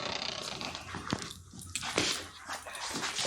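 A dog whimpers and whines in short, close, high-pitched cries, with a faint rustle and brief growly note between them.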